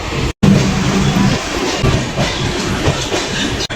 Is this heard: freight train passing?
yes